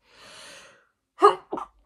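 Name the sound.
sneeze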